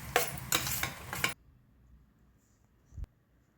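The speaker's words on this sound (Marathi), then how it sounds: "हे मिश्रण ना आपल्याला एकसारखं परतत राहावं लागतं." A spoon stirs a soaked, ground chana dal paste in a pan, producing a few loud scraping, sizzling strokes before the sound drops away, followed by a brief single knock.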